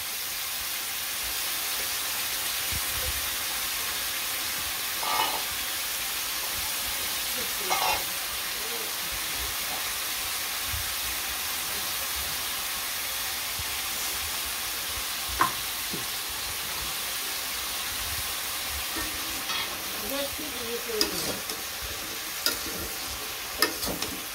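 Potatoes fry in a pan with salt, turmeric and chili powder, a continuous close sizzle with occasional scraping stirs and clinks of a utensil, steady throughout, with faint voices now and then.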